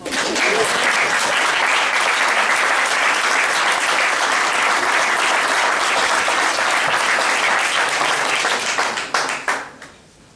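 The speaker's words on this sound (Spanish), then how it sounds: "¿Por qué no le damos un aplauso a Gema?" A large audience applauds steadily for a woman named Gema at a ceremony in Madrid naming someone Asturiano Predilecto, with dense, sustained clapping filling the room for about nine seconds before tapering off.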